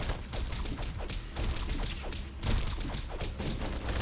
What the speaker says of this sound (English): You'll probably get hit by a bomb here a couple times.